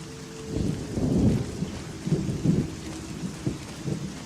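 Rain and rolling thunder in the video game Eleusis: a steady patter of rainfall under several deep, rumbling thunder swells that rise and fade over a few seconds, no speech.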